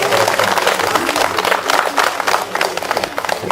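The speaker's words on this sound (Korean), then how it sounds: "큰 박수로" Applause from a crowd at a Korean community charity kimchi-making event, a busy patter of many hands clapping close by, with some murmuring voices mixed in.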